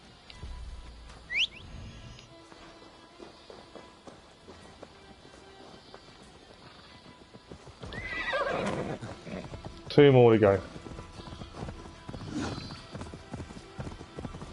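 A horse in Assassin's Creed Valhalla lets out a loud whinny among clip-clopping hooves, set against a quiet game ambience, with someone talking briefly.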